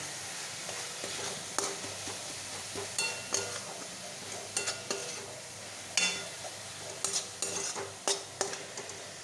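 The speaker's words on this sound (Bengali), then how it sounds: "এই তিলগুলো এবার দিয়ে দেবো হালকা করে দেবো এবার দিয়ে নাড়তে থাকবো" Sesame seeds get stirred into a coconut mixture in a frying pan while making coconut-sesame sweets, with a soft background sizzle and repeated sharp scrapes and clinks of the spoon against the pan, close and without speech.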